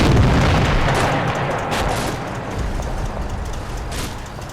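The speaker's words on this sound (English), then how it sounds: "the T-34 supporting our infantry in the field opens fire at the last known position of the enemy sniper" A T-34 tank's main gun firing in the Combat Mission: Red Thunder war game, a single heavy boom at the start that decays into a long rumbling tail, with a couple of fainter distant bangs following.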